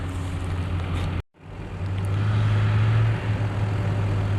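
A heavy tractor engine drones loudly and steadily while making hay, cuts out briefly, then returns with a deep, straining rumble that holds strong. No talking.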